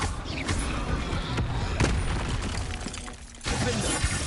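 A Confringo blasting spell explodes in the Hogwarts Legacy video game, with dense broadband bursts of impact and crackle. Sharp hits land around 0.5, 1.4 and 1.8 seconds, and a fresh loud blast begins near 3.5 seconds amid continuous combat noise.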